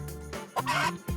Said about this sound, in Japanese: 80匹の鳥の鳴き声が聞こえる。